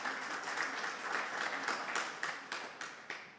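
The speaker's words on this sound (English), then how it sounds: "May we give Dr. Garvey a round of applause." Audience applause at a book launch, steady clapping from a seated crowd at moderate distance, thinning into a few separate louder claps near the end.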